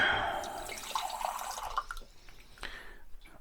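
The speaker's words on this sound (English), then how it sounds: "I'm going to add a little bit of water." Water poured into a pan of coconut shrimp and crab curry after the oil has cooled, a soft trickling and dripping pour that fades over a few seconds, fairly quiet.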